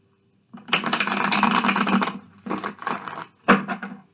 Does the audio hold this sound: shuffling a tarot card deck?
yes